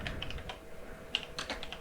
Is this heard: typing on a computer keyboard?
yes